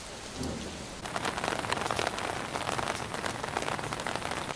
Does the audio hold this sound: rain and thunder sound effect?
yes